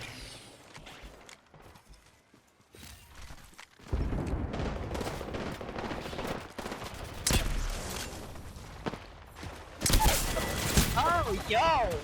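Gunfire in a first-person video game match, bursts of rapid shooting and impacts that come and go over twelve seconds, louder in the second half, with people talking over it.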